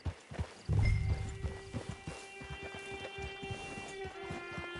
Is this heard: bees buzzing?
no